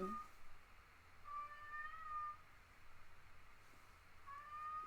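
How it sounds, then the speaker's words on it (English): A cat howls faintly in drawn-out, thin cries over a quiet background hum, with no one talking. "don't know if you can hear my poor cat howl"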